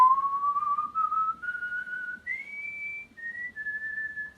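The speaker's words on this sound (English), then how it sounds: "I did it on the keyboard because it's actually got a better whistle" A keyboard's whistle voice plays a slow film theme melody, one clear sustained whistling line sliding gradually upward over a few seconds with short gaps, close and alone with no talk.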